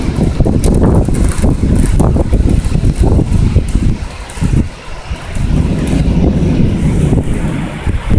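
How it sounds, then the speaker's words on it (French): Strong gusting southerly wind during a violent thunderstorm in Amiens, France, buffets the microphone, loud and rough, rising and falling in waves with a brief lull midway. "il y a du vent, mais comme il est de sud, ça ne me touche pas."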